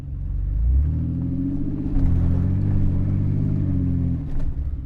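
One car tows another with a recovery rope, a loud low engine drone rising as it pulls away, then holding steady with a slight wavering before easing off near the end.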